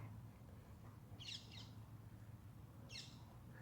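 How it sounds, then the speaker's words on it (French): Birds call from outdoors: two brief, bright chirping bursts come about a second and a half apart. They are faint and sit over a low steady background hum, with no talk. "quand tu entends les oiseaux chanter comme ça"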